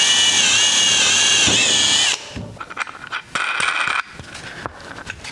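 A power drill bores a hole through wood for a bolt while a stair jig is built, a loud steady whine for about two seconds, then short bursts and clattering handling noises.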